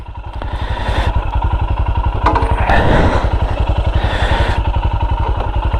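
Motorcycle engine running steadily close by on an off-road ride out, a loud continuous throb with some clatter and thumps over the terrain, no talking.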